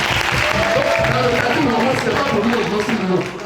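A church congregation bursts into applause for a miracle testimony, a steady clapping wash heard under a voice speaking over it, fading slightly at the end.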